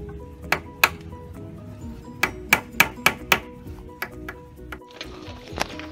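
A hammer drives size 5 nails into the top frame of a wooden aquaponics rack, sounding as about eight sharp, ringing metallic strikes in uneven bursts close to the microphone, with a faint background hiss.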